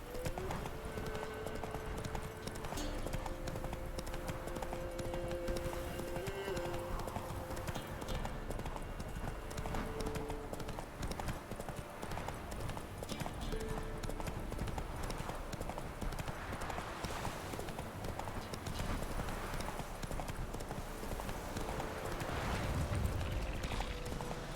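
Roach, Geralt's horse in The Witcher 3: Wild Hunt, trotting with steady rhythmic hoof clip-clops over a continuous outdoor game ambience, moderately close and sustained throughout.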